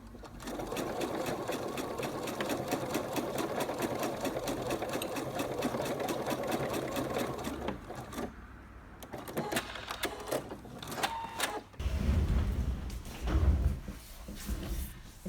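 A domestic sewing machine stitches fabric in a steady, rapid mechanical chatter for several seconds, then stops; clicks and knocks follow as the needle is repositioned, with a short burst of stitching and handling thumps near the end.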